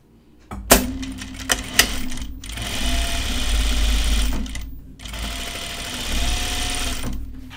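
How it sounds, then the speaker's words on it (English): Sewing machine stitching sleeves onto a Cheyenne tunic: a few sharp clicks, then two long steady runs of close, loud whirring stitches separated by a brief pause. "All I have to do is put the sleeves on and hem it."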